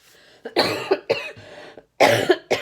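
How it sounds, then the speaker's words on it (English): A person coughs repeatedly, several harsh bursts close up, with a short pause before a final pair of coughs. "Sorry, that's just me coughing."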